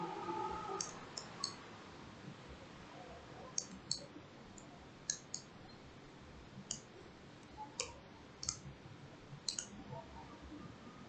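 Mouse clicks in a digital art program, a dozen or so sharp, crisp taps spaced irregularly, some in quick pairs, heard alone at low level over faint background hiss.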